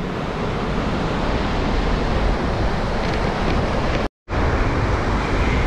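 Ocean surf at Taipu de Fora beach on the Maraú peninsula, a dense, continuous wash of breaking waves mixed with wind rumble on the microphone, broken only by one brief dropout near the end.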